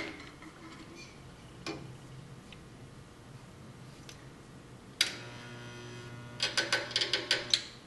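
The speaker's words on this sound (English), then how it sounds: "I'm going to weld the first hoop on. So I'm going to put my first spot right in the center." Spot welding a metal hoop onto a spine, heard as a faint electrical hum followed by a louder buzzing weld and a quick run of sharp crackling pops near the end, with no talking.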